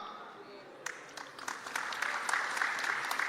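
An audience at a Hindu religious discourse bursts into applause, starting from near quiet, with scattered claps quickly building into steady, moderately loud clapping that continues to the end.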